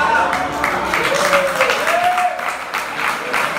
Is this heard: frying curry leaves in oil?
no